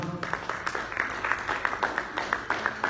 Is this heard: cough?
no